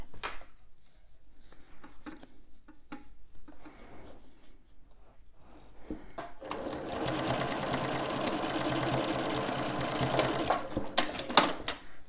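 A sewing machine stitches the zip corner of a fabric toiletry bag, right sides together, with a 0.5 cm seam. A few short starts of clicking lead into a long, steady run of close stitching.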